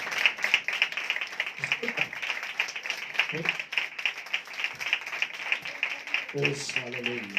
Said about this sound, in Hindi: खुदा की हजूरी के लिए जोरदार तालियां बजाएं